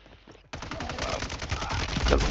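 Gunfire in Warzone 3 breaks out suddenly after a quiet moment, a dense rapid burst of automatic shots that carries on loudly to the end.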